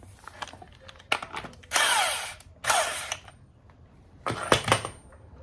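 A 1/2-inch drive power tool runs in several short bursts and one sustained whir during an LQ4 6.0 engine rebuild, close and loud, with mechanical clicks between the bursts.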